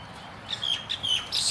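A bird chirps several short, bright tweets close by, repeating in quick succession over a soft background hiss.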